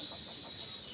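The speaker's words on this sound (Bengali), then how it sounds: "হাঁস মুরগি।" Chickens cluck softly in a village yard beside a pond with ducks, a brief, faint murmur of fowl sounds over steady background noise.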